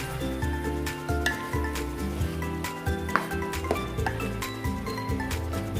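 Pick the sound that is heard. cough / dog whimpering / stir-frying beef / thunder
stir-frying beef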